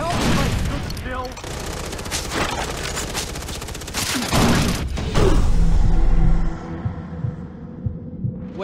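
Far Cry 3 co-op combat on Xbox 360: a rapid volley of gunfire and sharp bangs from grenades and a Molotov, followed by a heavy low blast that fades into a hum with scattered thuds.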